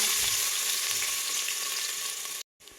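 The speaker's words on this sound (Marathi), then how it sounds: "आता मी हे दोन कांदे चिरलेले आहेत आता मी हे तेलात टाकायला लागली" Chopped onions frying in hot oil with cumin seeds give a steady, dense sizzle that fills the whole stretch, close and fairly loud, then cut off abruptly near the end with a brief quiet gap.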